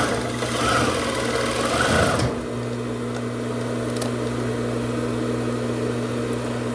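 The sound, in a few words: sewing machine stitching fitness shorts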